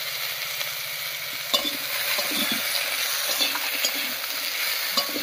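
Jute leaf curry with turmeric and salt being stirred in a pan, a steady close sizzle of frying with soft scraping strokes and a few light clinks of the utensil against the pan.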